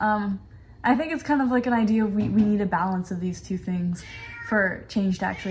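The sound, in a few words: cat meowing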